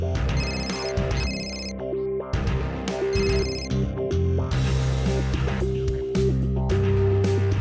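Mobile phone ringing with an incoming call: a melodic electronic ringtone plays in repeating bursts for several seconds, loud and close, with background music underneath and no talking.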